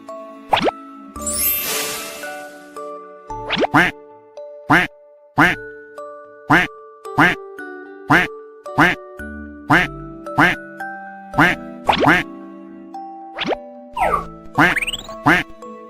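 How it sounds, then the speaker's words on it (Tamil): A duck quacks over and over in a steady rhythm, loud and close, with a brief jingle near the start. "வாத்து கத்தும்."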